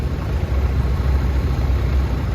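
A Ford 900 tractor running on propane rumbles steadily at an outdoor show parade, a loud low continuous engine drone with no break.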